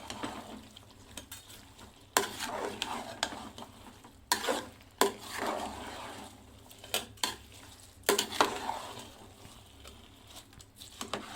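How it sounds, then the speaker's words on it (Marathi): Scraping and stirring in a pan of masala rice and vegetables, a spoon dragging and knocking against metal in uneven strokes, with soft sizzling underneath and no one speaking. "आता ह्याला पण छान असं मिक्स करून घेते।"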